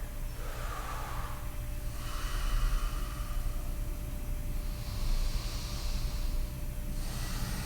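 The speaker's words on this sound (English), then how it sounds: "We're looking for 2 nice deep breaths here." Slow, deep breaths drawn in and out during a neck and shoulder stretch, each breath a soft airy hiss rising and falling near the listener, a few breaths in sequence with no talking.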